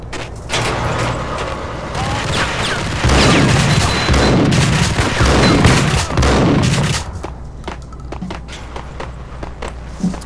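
Loud bursts of shotgun fire and chaotic combat noise from the Max Payne video game, heavy blasts and clattering mechanisms crowding the middle stretch, then thinning into scattered sharp shots and impacts toward the end.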